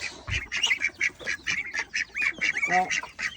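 Geese honking and calling close by as they are fed lettuce at a free-range yard with chickens and turkeys, a rapid run of short nasal honks with one brief drawn-out call, fairly loud and continuous.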